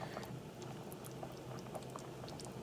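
Pieces of fish fry in hot oil, giving off a steady, faint bubbling sizzle with small irregular pops throughout.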